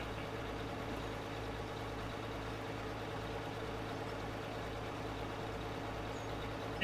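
A dump truck's engine idles in Out of Ore, a steady low diesel rumble held at an even, fairly quiet level throughout with no voices over it.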